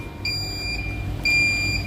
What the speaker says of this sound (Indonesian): ini sudah terbaca ya alarm